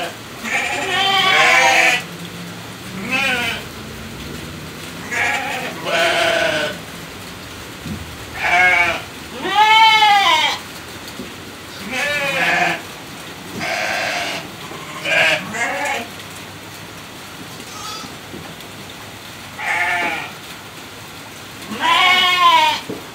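Ewes that have just given birth bleat repeatedly, about a dozen loud, wavering calls spaced irregularly, close by in a pen with soft rain in the background.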